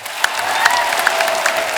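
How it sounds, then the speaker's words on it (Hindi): A studio audience at a comedy talk show claps loudly and steadily without a break. A few sharper claps stand out, and a faint crowd murmur sits underneath. "जोरदार तालियां एक बार हो जाए।"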